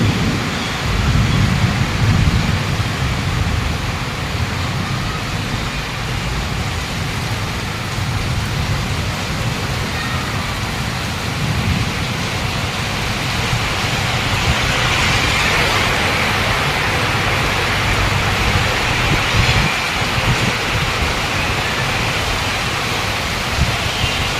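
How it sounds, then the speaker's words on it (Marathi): Steady rain in Dombivli hisses continuously with gusty wind noise rolling underneath, a dense, unbroken wash of weather sound. "हवा पण आहे आणि पाऊस पण आहे"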